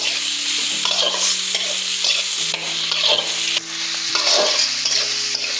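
Sliced vegetables, including green and red capsicum, are stir-fried in hot oil for egg chowmein. A constant close sizzle runs throughout, broken by scraping stirs, with no talk.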